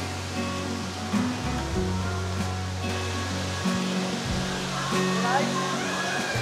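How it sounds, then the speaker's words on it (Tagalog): A waterfall beside a cliff-edge trail on a day hike to a rock formation gives a steady broadband rush of falling water, with people talking over it. "Yan na yung falls."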